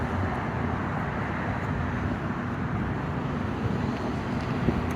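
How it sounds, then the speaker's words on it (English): Steady low rumble of passing truck and trailer traffic, a continuous broadband roar that stays loud and even throughout, with a wind-like hiss on top and no talk. "the noise from the truck trailer"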